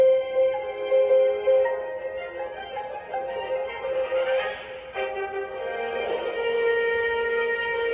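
An instrumental version of a song from Frozen 2 plays from a toy karaoke boombox. It is a thin, tinny melody with sustained tones that runs steadily for the whole stretch, with no voices over it.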